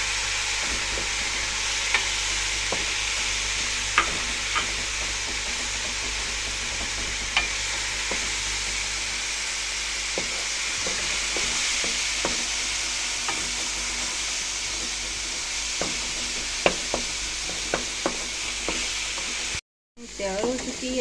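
Boiled medium potatoes, about a cup, stirred into frying spiced masala in a pan, with a steady sizzle under repeated scraping spoon strokes and a brief drop to silence near the end.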